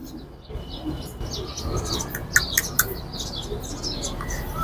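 Pigeons kept in a loft chirp and call in short bursts, several sharp notes standing out over a low background murmur, with faint talk at times.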